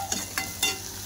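Ginger, coconut, garlic and green chilli paste sautés in a pan, a faint hiss with three quick stirring scrapes over about a second, close by and without speech.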